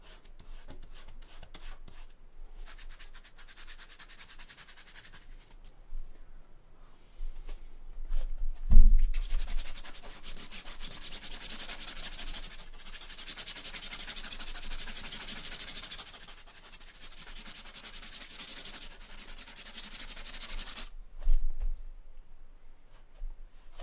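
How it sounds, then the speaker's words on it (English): A coarse, bristly oil-painting brush scrubs paint across canvas in repeated dry rasping strokes, close and fairly quiet, with occasional soft knocks between bursts of rubbing. "block stuff in a broader fashion using this other brush, which is a slightly bigger, again coarse, but a bigger bristle"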